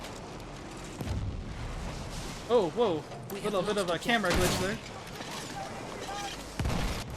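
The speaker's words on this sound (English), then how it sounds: "And all the explosions coming in right there." Explosions in a Battlefield video game during a 16 v 16 Xbox One match, several heavy booming blasts spread across the stretch, heard under an excited commentator.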